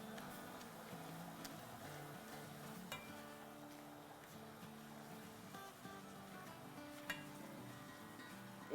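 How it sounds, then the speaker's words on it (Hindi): Maida frying on medium heat for a white sauce gives a soft, steady sizzle. Music with a melody and occasional ticks plays over it. "इसको हम फ्राई करेंगे, आंच हमारी मीडियम पे ही है।"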